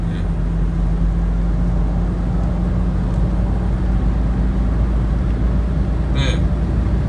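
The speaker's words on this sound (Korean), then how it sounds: "제가 이제 한번 킥다운 해가지고 한번 달려보죠" A used Kia Mohave SUV pulling hard on kickdown, heard from inside the cabin: a steady, close drone of engine and road roar that holds throughout, with a brief higher squeak near the end and no talk.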